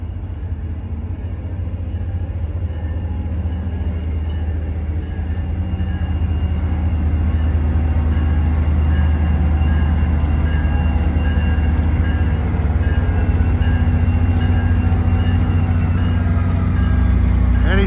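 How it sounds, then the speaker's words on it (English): NJ Transit train 1171 from Hoboken to Suffern, led by an EMD Geep diesel, former CNJ unit 4100 with a bronze bell, approaching a station: a loud, steady diesel rumble and rolling rail noise that builds slightly, with no talking. "Approaching at 7:13 is train 1171, Hoboken to Suffern. He'll be stopping here and he's got a Jeep on the point."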